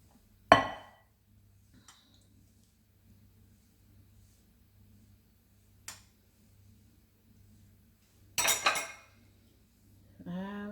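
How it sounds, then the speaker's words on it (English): A spoon clinks against dishes while food is spooned onto vegetables, heard as a few sharp, isolated clinks and a brief cluster of clattering in an otherwise quiet kitchen, close by. "I'm going to spoon it on my veg"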